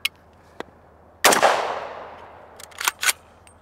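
A PSA JAKL 8.5-inch 300 Blackout fires one loud, sharp shot of 220-grain subsonic ammunition, and the report decays over about a second. A few faint clicks come before it and brief mechanical rattles follow.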